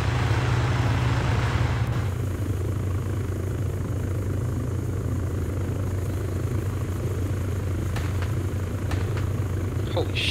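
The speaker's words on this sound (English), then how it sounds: "Get on the chopper." Helicopter in the ArmA 3 military game, a continuous low rotor and engine drone holding steady throughout, fairly close and loud, with a few faint clicks near the end.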